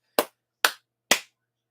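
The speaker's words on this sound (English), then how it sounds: "I want to clap, clap, clap" Three sharp hand claps, evenly spaced about half a second apart, loud and close with nothing else around them.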